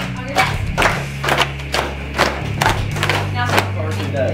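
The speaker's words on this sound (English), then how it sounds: "Clap your hands." An audience at a school college and career day claps in a quick patter of sharp hand strikes over a room murmur and low hum, with voices mixed in.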